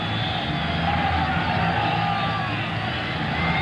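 A sellout crowd at San Diego Jack Murphy Stadium during a 1996 NFL game between the Tampa Bay Buccaneers and San Diego Chargers keeps up a steady, dense roar, with faint voices mixed in.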